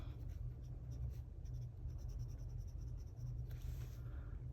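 Soft, steady scratching of pencil on paper, continuous strokes with a low background rumble, close and quiet.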